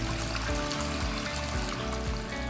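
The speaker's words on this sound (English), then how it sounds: "if the flapper is stuck open, it can run 2 to 3 gallons of water per minute down the drain" A running toilet with its flapper stuck open sends water flowing steadily down the drain, a constant loud trickling rush with no pauses and no talk.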